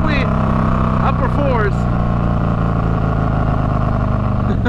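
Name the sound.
Harley-Davidson 131ci bagger motorcycle engine revving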